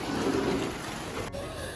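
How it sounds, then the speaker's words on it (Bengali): Heavier rain pours down in a broad, continuous rushing hiss, loud and close, with a brief dip near the end and no voices. "এবার ভালো এসছে বৃষ্টিটা।"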